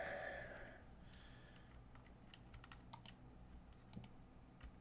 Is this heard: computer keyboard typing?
yes